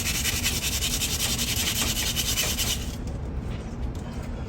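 Sandpaper rubbing back and forth on a metal garage door shaft, a close, continuous gritty scraping with a steady rhythm that eases slightly near the end, with no talking.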